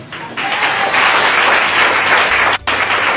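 A church congregation bursts into loud, sustained applause for Jesus, dense clapping filling the room with a brief dip near the end before resuming.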